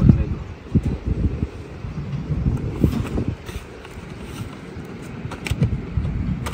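Wind gusting outdoors on a high Himalayan trek toward Om Parvat, a steady broadband rush with buffeting bursts against the microphone, loud and continuous, with faint movement and rustling mixed in.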